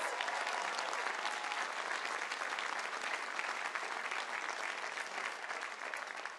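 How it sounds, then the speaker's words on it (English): A college commencement audience breaks into sustained, dense applause, steady and loud throughout with no voices standing out. "So how about a shout out to them? Round of applause."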